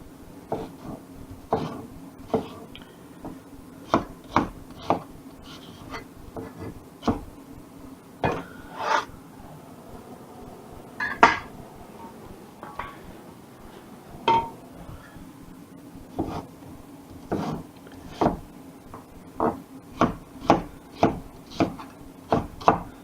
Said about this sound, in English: This is the way I've always kind of chopped onions.